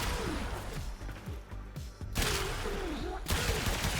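Braton incarnon rifle gunfire in the video game Warframe, rapid dense bursts of shots layered with tonal game effects and impacts, loud and continuous with brief gaps between bursts.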